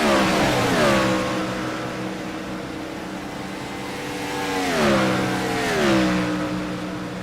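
An IROC race car accelerates out of the pits at Chicago, its engine revving up through several gear changes, loud and close at first and then fading and rising again as other cars pass.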